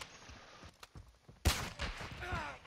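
Gunfire in a multiplayer shooter video game, a few scattered quiet pops followed by a sharp, louder burst of shots with crackling echoes.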